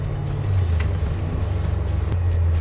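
Engine of a 1986 Chevrolet Silverado sleeper fitted with a supercharged LT4 V8 rumbles up close, a loud, steady low idle with slight pitch shifts and no talk.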